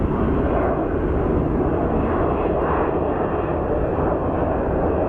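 A small, agile airplane takes off at Phoenix Sky Harbor airport with a loud, steady engine roar that fills the whole stretch and sounds close by. There is no talking over it.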